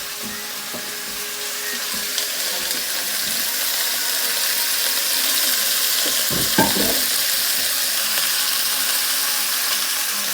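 Chicken pieces searing in a very hot pan for a Caribbean chicken dish, giving a steady broad sizzle that swells slightly over time, with a few brief scraping stirs near the middle and no talking.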